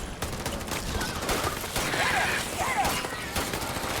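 Sustained gunfire from a firefight in the video game Starfield rattles continuously, with a steady barrage of shots and mechanical clatter, and a voice speaks faintly beneath the noise.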